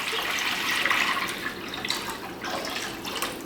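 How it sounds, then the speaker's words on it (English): Two quarts of water pour into a crock pot in a steady, splashing gush that trails off into lighter trickles and drips, with no talk. "We're going to add our 2 quarts of water."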